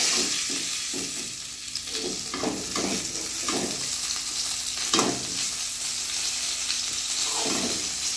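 Fish fry in hot oil with a steady, moderately loud sizzle, broken by repeated scraping and clattering stirs of a utensil in the pan.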